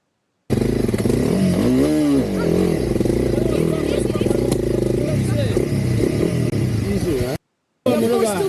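A motorcycle rides along a rough, unpaved dirt road on an African road journey, its engine revving up and down in a steady, close drone before a brief dropout near the end.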